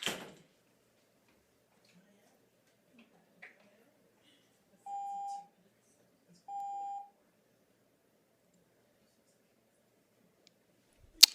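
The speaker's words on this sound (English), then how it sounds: "Don't worry about the beeps. We're just getting the timing set up." Two short electronic timer beeps sound a couple of seconds apart in a quiet council chamber during meeting setup, with faint room noise and small knocks around them.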